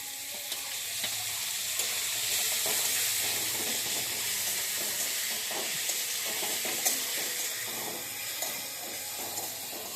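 Potatoes sizzle steadily in a pan with ginger, onion and garlic paste added, a continuous close hiss and crackle of frying with occasional stirring clicks, no talking.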